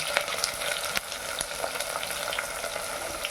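Garlic and small shallots frying in oil in a pan for a Tamil rice and lentil dish, a constant close crackling sizzle with a few light taps, no talking.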